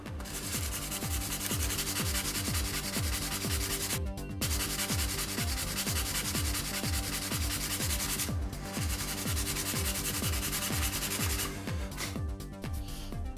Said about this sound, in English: I sand until the scratch is completely removed